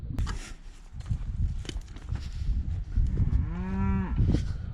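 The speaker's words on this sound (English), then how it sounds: "Guess the cows are going underneath it." A farm cow gives a single drawn-out moo near a plowing field where an auger has fallen, rising above steady background rumble and shuffling footsteps.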